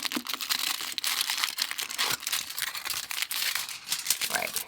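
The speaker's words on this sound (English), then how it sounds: "break off a piece of foil" Aluminium foil being torn and crinkled while doing a gel manicure at home, a steady run of dense crackling and tearing with no talk over it.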